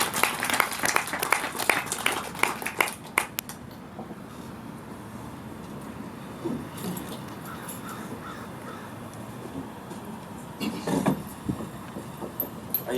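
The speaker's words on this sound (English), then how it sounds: "So Joseph Hunt, round of applause." An audience at a community event gives a round of applause, a dense clapping burst that fades after a few seconds into quiet room noise, with scattered claps returning later.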